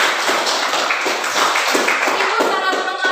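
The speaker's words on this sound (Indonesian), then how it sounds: "Sekali lagi tepuk tangan dulu." Students in a classroom clap their hands in a steady burst of applause, many fairly close hands patting at a quick even pace over three seconds, with a few voices mixed in.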